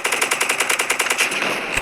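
Rapid automatic gunfire in a Roblox zombie game, a fast steady burst of about a dozen evenly spaced shots, loud and close, ending with a final heavier bang.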